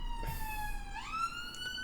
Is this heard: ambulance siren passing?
yes